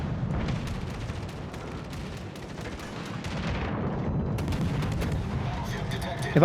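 Warship guns fire shells in the naval game World of Warships, heavy booming rumbles and distant blasts layered over a dense low roar of battle noise, with a faint voice under the din.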